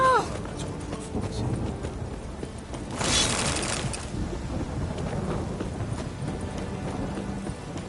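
Rain and thunder roll through the video game The Witcher 3, a constant wet hiss with a loud rumbling burst midway, while hooves clop steadily underneath and voices are faintly present.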